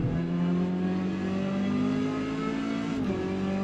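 A Ginetta G40 race car engine in Forza Motorsport at Brands Hatch drones at steady high revs, close and loud, with a brief dip and shift in pitch near the end like a gear change.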